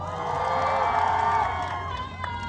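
Audience at a military culture expo busking show in Gyeryong, a crowd cheering and whooping in a sustained swell that fades slightly toward the end.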